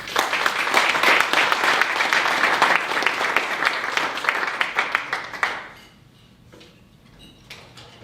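Audience at a State Street event applauding to welcome a speaker, a dense burst of clapping from a crowd that tapers off after about five seconds, leaving a few scattered claps in a quiet room.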